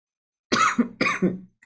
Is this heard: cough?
yes